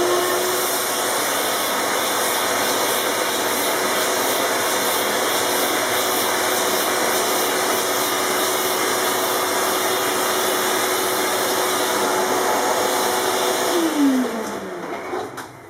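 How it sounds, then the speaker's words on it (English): A vacuum cleaner sucks debris out of a guitar fretboard during a refret, running steadily with a loud whining roar, then its motor winds down near the end. "what I'm going to do is actually just vacuum it out as well"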